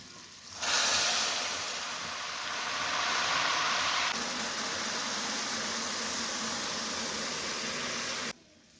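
Milk poured into hot chakwali halwa in a pan sets off a sudden loud steamy hiss that holds steady and broad for several seconds, then cuts off abruptly, with no talking.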